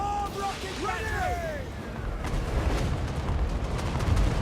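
Deep booming artillery fire from a Total War: Warhammer battle, with rumbling blasts under a busy battlefield din and some whistling sounds early on.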